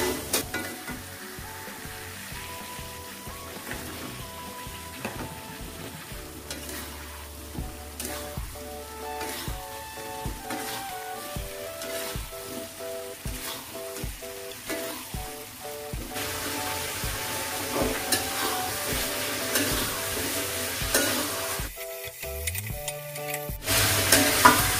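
Chicken pieces fry and get stirred in a ground balado chili spice paste, steady sizzling broken by repeated scraping stirs, louder and more crackly toward the end, with no talking.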